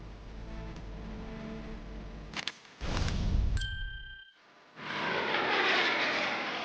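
Airliner flying from Turkey to Iran, with a steady engine roar that cuts out briefly around a short chime tone and then returns as a loud, continuous rush.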